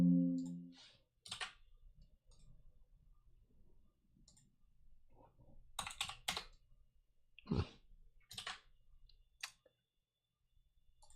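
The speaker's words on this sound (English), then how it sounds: "my keyboard is not wanting to cooperate" Sparse clicks of a computer keyboard come in short scattered bursts, some sharp and close, with quiet gaps between, after a brief low hum at the start.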